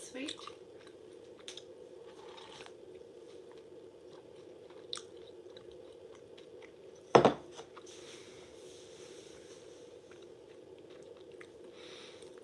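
Someone chews a mouthful of chunky matcha-flavored Japanese breakfast cereal soaked in milk, soft wet crunching close to the mouth over a low steady hum, with a sharp clunk midway.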